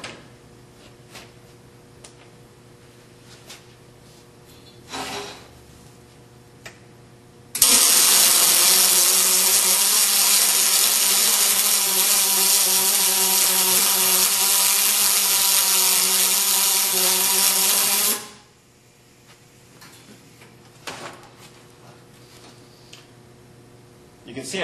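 Pulse MIG welding fills a recessed plug weld on a tubular S10 control arm, a loud, steady crackling buzz lasting about ten seconds, starting and stopping abruptly, with quieter shop ambience and brief talk before and after.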